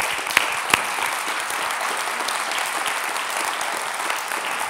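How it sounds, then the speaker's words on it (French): A live audience applauds steadily for a guest being welcomed on stage at a public debate about water, a dense and even wash of clapping that lasts throughout with a couple of sharper claps near the start. "Audrey Klein, qu'on peut applaudir."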